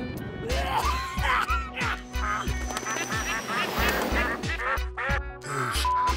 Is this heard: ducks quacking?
yes